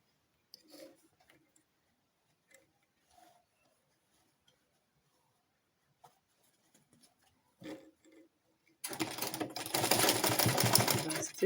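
Sewing machine stitching a corset with skin illusion net: scattered handling clicks and brief talk, then a steady loud whirring run of stitches in the final seconds.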